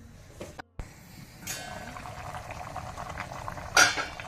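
Mutton head pulao bubbling in a pot for a Mangalorean dish, a steady close simmer with small clinks of a utensil against the pot.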